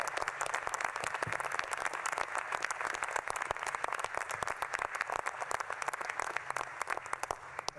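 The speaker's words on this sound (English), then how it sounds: "Let's give them all a round of applause." Steady applause from a seated audience at a National Space Council meeting, many hands clapping evenly and continuously throughout at a moderate distance.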